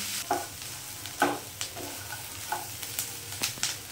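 Chopped onions with garlic fry in a pan for a Bengali coconut curry while being stirred, giving a soft, fairly faint sizzle with scattered scrapes and knocks of the spoon and no voices.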